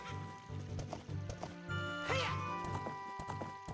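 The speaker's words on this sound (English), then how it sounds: "look at my horse flying" A horse gallops in Ocarina of Time, played in the Ship of Harkinian port. Steady, rhythmic clip-clop hoofbeats run over game music, with a brief whinny partway through.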